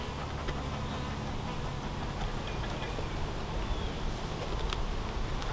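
Honeybees buzzing around an open hive during an inspection of a split colony, a dense continuous drone with a few close passing buzzes and faint clicks, no speech.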